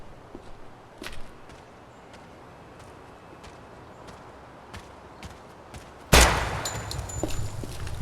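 Rifle gunfire in the video game Project Silverfish, a few faint clicks and taps before a sudden loud, sustained burst of rapid shots erupts near the end.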